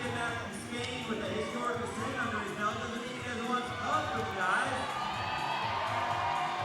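A crowd at a national sport and speed climbing championship whoops and cheers in scattered bursts, fairly distant, while an announcer talks over it.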